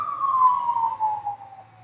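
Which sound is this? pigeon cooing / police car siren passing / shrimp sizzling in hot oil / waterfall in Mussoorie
police car siren passing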